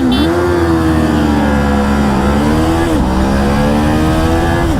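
A Kawasaki Ninja 500 and a custom-built 400cc motorcycle drag racing side by side, engines revving loud and close with rising pitch, a clear gear shift dropping the revs near the middle before climbing again.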